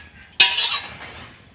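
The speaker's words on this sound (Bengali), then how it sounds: "এখন একটা ঢাকা আছে, এই ঢাকাটা দিয়ে দিব।" A lid set down on a pan of chitoi pitha rice batter, a single sharp metallic clack followed by a fading ring and soft hiss.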